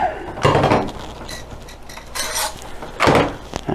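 An AK-47 rifle dust cover is pried off by hand, giving a few sharp metallic clacks and scrapes close by, spaced out over a few seconds.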